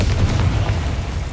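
A Confringo blasting spell exploding in Hogwarts Legacy, a brief, loud, low booming blast that rumbles and fades, with no voices.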